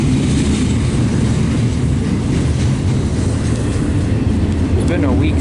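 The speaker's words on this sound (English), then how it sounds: "This auto rack train. So this is CP 106." CP 106, an auto rack freight train, rumbles steadily past at close range, a loud continuous roar of rolling cars and wheel noise filling the whole stretch.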